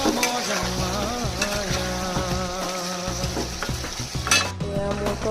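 Broiler chicken meat with tomato frying and sizzling in a pan, steady and close, with stirring and scraping in the pan throughout.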